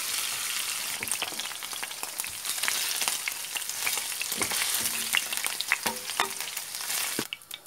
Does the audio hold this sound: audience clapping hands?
no